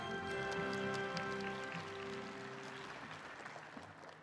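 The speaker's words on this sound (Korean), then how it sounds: "여러분 문희상 국회의장에게 다시 한번 뜨거운 박수 부탁드립니다" Audience applause at the SBS D Forum at DDP in Seoul, welcoming the National Assembly Speaker; dense steady clapping from a large crowd under sustained tonal music, thinning slightly toward the end.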